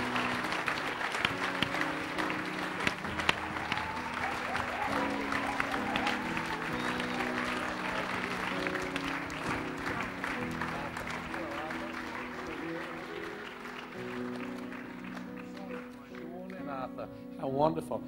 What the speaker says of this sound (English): Why don't we give them a great clap, shall we?